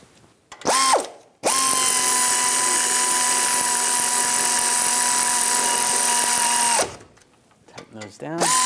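Power tool running down brake bracket bolts on a 2014-2023 Jeep Cherokee during a front brake job: a short ratcheting burst, then a loud steady high-pitched whine for several seconds, then clicking and brief voices.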